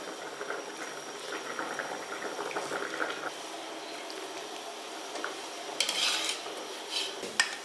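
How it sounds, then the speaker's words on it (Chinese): Enoki mushrooms and sausage simmer in a pot of boiling liquid, a steady bubbling hiss close by with light clinks of utensils against the pot and a few brighter scrapes near the end; no one speaks. "咱的那个金针菇跟这个香肠也给它煮熟"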